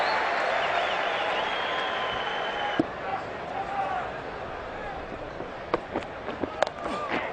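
Newlands cricket crowd cheering and applauding a boundary four in a South Africa versus Australia Test, a broad roar of clapping and shouts that slowly subsides, with scattered sharper claps and whistles near the end.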